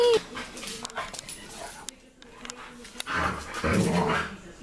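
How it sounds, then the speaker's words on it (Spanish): Dog barking and whimpering, short yips and whines close by, mixed with people talking loudly and other voices. "Perro poseído."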